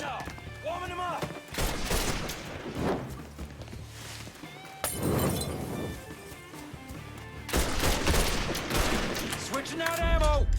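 A Mafia 3 shootout: bursts of rapid gunfire and single shots crack through a chaotic firefight, with shouting voices, impacts and crashes mixed in, loud and close.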